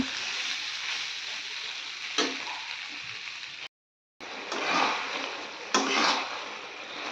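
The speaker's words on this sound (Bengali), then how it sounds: "আলুটাও আমি এর সাথে ভেজে নিচ্ছি" Pointed gourd and half-boiled potato pieces fry and sizzle in a pan on a continuous hiss, with scraping stirring strokes, a brief silent break and sharper utensil knocks against the pan.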